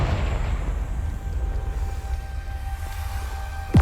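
A Confringo blasting spell explodes in the video game Hogwarts Legacy, a deep low rumbling boom that lingers and fades, with a sharp burst right at the end.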